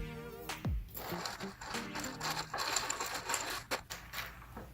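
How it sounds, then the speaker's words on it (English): Suffering Bastard cocktail being stirred in a glass, a steady run of clinking, rattling ice taps and scrapes lasting several seconds, close and fairly quiet, with no talking. "Then I'm going to stir it up."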